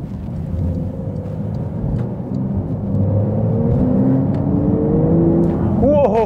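A Porsche 992 GTS engine droning from inside the cabin under load, building gradually, with a quick throttle blip sweeping up at the very end; voices talk over it.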